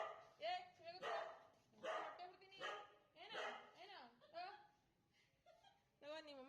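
A biting guard dog kept at a house gives a run of faint, repeated barks and yips, mixed with people talking and laughing.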